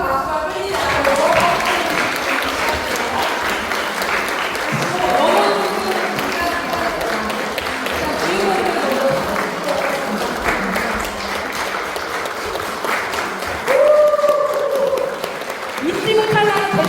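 Sustained applause from an audience at a Won Buddhist entrance ceremony for new members, a steady dense patter of many hands clapping that swells briefly near the end, with a little chatter mixed in.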